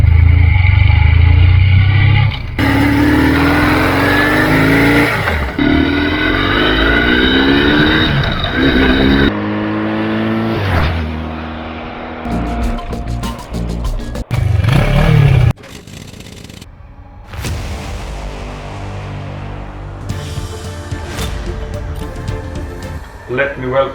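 A BMW R1150GS motorcycle's 1150cc engine revs up and down repeatedly, loud and close, with pitch sweeping through several throttle bursts and a voice talking intermittently.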